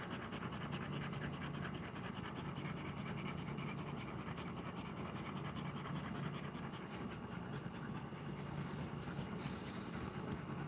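A pet dog named Daphne pants rapidly and steadily at close range, a continuous rasping breath rhythm with no pauses across the whole stretch, loud enough to resemble a chugging engine.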